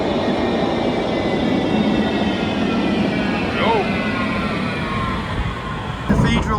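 Underground tram running through a tunnel in Cologne, a steady loud rumble of wheels on rail with a brief squeal partway through, continuous throughout, with a voice audible underneath.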